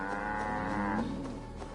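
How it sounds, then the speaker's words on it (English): Cattle in Assassin's Creed Valhalla give one long, low, drawn-out moo, close and clear over faint game ambience, ending after about a second and a half. "Right, cows are here."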